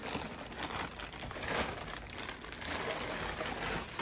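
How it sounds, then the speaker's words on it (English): Steady crinkling of a plastic bag, close and continuous, with busy rustling texture throughout and no speech. "Everything's in a plastic bag."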